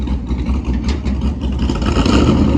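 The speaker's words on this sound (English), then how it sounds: "You ready for a naturally aspirated rev?" A naturally aspirated car engine, turbos removed, revs loudly and steadily for a couple of seconds, its broad roar rising slightly toward the end with no talk over it.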